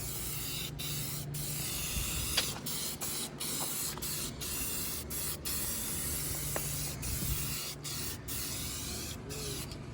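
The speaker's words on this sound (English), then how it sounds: "give it a quick coat of, this is Krylon DTM gloss black in a rattle can." A Krylon DTM gloss black rattle can sprays paint onto Model A frame parts in a paint booth, giving a close, steady hiss broken by several brief pauses between passes.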